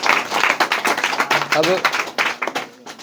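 Schoolchildren in a classroom break into scattered applause, a dense patter of hand claps that swells and fades over a few seconds while an adult voice talks over it.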